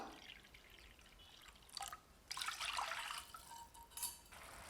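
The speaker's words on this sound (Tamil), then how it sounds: "இப்போ தண்ணி நல்லா கொதித்து வருதுங்க" Water heating in a pot on the stove for cooking sago, faint bubbling and liquid sounds with a few louder bursts of churning, quiet and close with no talk.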